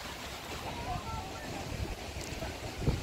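Wind buffets the microphone over the low wash of sea waves at a beach, with a faint voice murmuring in the background.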